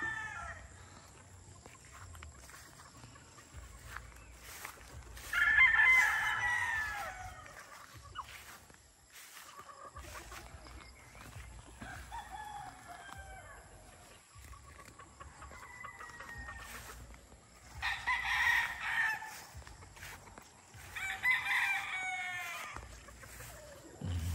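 Gamefowl roosters, SBR crossed over Melson's Black breeding stock at a game farm, crow in several long calls from a moderate distance, with clucking and faint farmyard background throughout.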